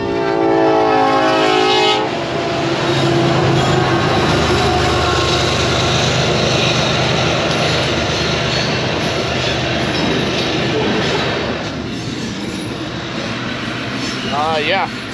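Freight train rolling past a road crossing, a loud continuous rumble and clatter of rail cars with a horn blast at the start, filling the whole stretch; a voice is briefly heard over it.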